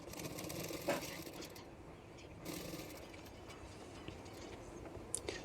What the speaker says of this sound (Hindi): और उसके बाद पीछे की तरफ मैं फोल्ड करके इस तरह से सिलाई कर लूँगी।